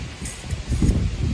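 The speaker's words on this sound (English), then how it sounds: "It's a smidgy bit windy here today." Outdoor wind gusts buffet the microphone in a low, fluttering rumble that swells and eases over a second or so, with no talking.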